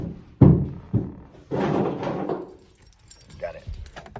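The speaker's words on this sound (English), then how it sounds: "Where's the keys? Oh, on the roof." Keys for an old Dodge car being picked up off the roof jangle in a few quick metallic bursts, close by, amid thumps, a whimpering dog and some talk.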